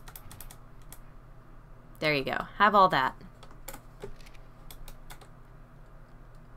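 Rapid, furious clicking and key tapping on a computer during Ark: Scorched Earth play, close and crisp, with a brief spoken remark from a man partway through.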